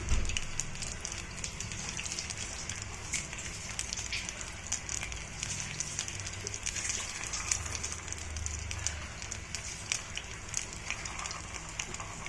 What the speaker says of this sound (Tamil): எண்ணெய் நல்லா காஞ்சிருச்சு இப்போ ஒன்று ஒன்றா போட்டு எடுத்துடலாம்